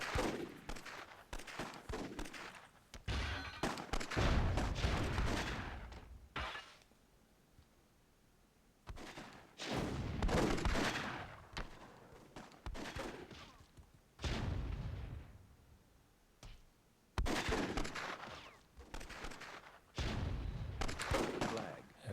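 Repeated booming bursts of cannon fire in Myth II: Soulblighter in loud clusters, separated by brief quiet gaps, with dense crackling blasts throughout.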